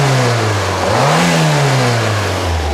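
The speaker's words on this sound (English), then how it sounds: "The 8 valve is a particularly odd sounding engine anyway." Carburetted 8-valve car engine revving after a carburettor rebuild, loud and close: a steady idle, a smooth rise in revs, a slow fall, then a return to idle, with no voices.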